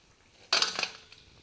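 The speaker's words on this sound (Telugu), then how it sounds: "ఇలా గోల్డెన్ బ్రౌన్ కలర్ వచ్చిన తర్వాత వీటిని తీసి వేరొక ప్లేట్లోకి ట్రాన్స్ఫర్ చేసుకోవాలి" Golden-brown fried potato bites being moved onto another plate, giving a short cluster of metallic clinks and scrapes of utensil against dish, close and fairly quiet, with no talking.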